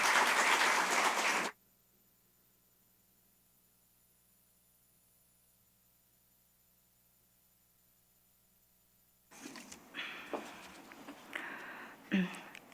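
A church congregation at a Thanksgiving service claps to welcome a woman coming forward to give testimony; a burst of applause opens, then near silence, then scattered claps and shuffling sounds return toward the end.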